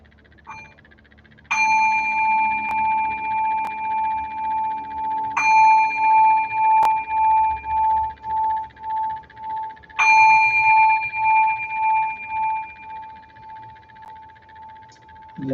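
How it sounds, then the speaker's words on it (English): A meditation bell is struck three times, each clear ringing tone hanging and slowly fading with a gentle wavering shimmer, loud and close in a quiet room. "as the sound of the bell fades, take a few deep breaths"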